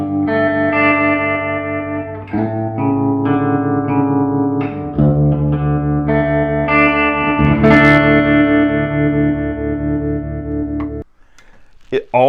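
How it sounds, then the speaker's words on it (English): A baritone-tuned Fender Squier electric guitar plays sustained low notes and chords through effects, ringing with a distorted, reverberant tone that shifts between held phrases before cutting off near the end. "It's a baritone guitar."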